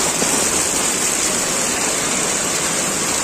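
Heavy monsoon downpour in Virar, a dense, steady roar of rain pouring down hard and close, unbroken hiss across the whole stretch with no voices.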